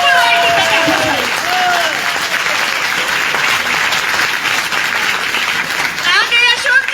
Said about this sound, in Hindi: ये सीतापुर वाले बहुत चालू है, ताली की बात है तो बजाने लगे